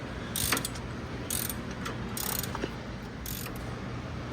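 An Allen key tightens the threaded piece of an LED wheel badge on a Dodge Challenger widebody, giving several short bursts of close, dry metallic clicking and ratcheting over a faint steady background hum, with no talking.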